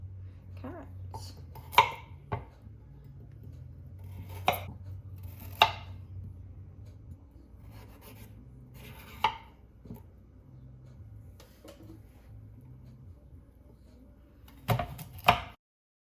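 Carrots being chopped with a knife on a board for homemade vegan sushi, giving a handful of sharp, separate knocks spread out over a low background hum.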